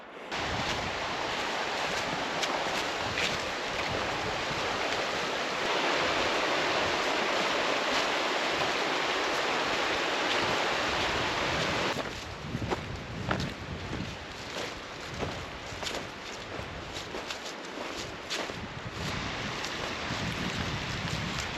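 Snowmelt creek on the West Fork of the Gila River in New Mexico's Gila Wilderness, rushing steadily and close by as a broadband wash; the flow shifts in tone partway through, turning more broken and splashy.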